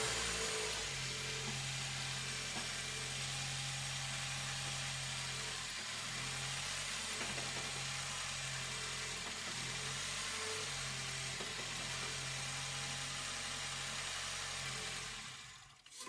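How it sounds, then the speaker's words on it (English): Subaru STI engine idles steadily in first gear as the clutch is slowly let out, a low, even rumble heard alone from inside the car for the whole stretch. "I'm gonna just get in it, put it in first gear, kind of slowly let off the clutch"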